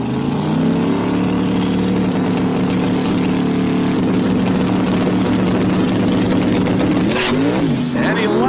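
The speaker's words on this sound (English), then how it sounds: "And he spins the tires." A drag racing car at a drag-and-drive event loudly spins its tires, a steady, droning engine roar close by that surges into a sharp, rising howl near the end, with a commentator talking over it.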